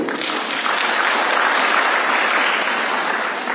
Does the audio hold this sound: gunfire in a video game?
no